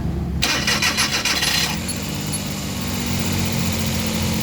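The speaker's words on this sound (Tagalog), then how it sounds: "So gagawin natin, i-on natin ng isa natin makina." A Suzuki DA64 engine cranks briefly with a quick whirring starter burst, then catches and settles into a steady, close idle that continues alone.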